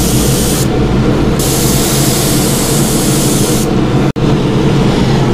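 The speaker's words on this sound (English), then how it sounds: "then you should get a better mist coming out" A paint spray gun misting through a layered stencil hisses loudly and steadily up close, broken by brief pauses where the trigger lets off, with no talking.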